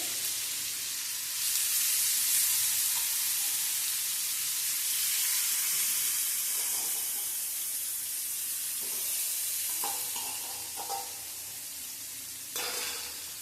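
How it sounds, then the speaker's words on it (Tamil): Pieces of fish frying in hot oil, a steady loud sizzle and hiss that swells and settles with occasional stirring clatter, no voices. "மீதம் இருக்கிற மீன் துண்டுகளையும் போட்டு பொரிச்சிட்டு"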